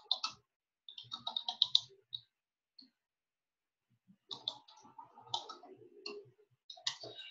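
Computer mouse and keyboard clicks come in two bursts of quick, close, crisp taps separated by a quiet pause, with no talking.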